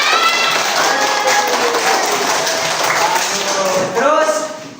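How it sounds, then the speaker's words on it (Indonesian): Classroom applause from students during an Islamic religious education lesson, a steady burst of clapping lasting a few seconds with voices mixed in, fading out at the end. "Ya, kita tepuk tangan."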